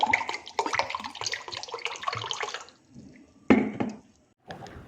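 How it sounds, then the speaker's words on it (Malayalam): A close stream of water splashes into a glass for a few seconds, stops, then two short splashy pours follow. "അടുത്ത ഗ്ലാസ്സിലും വെള്ളം ഒഴിച്ച് കൊടുക്കാം"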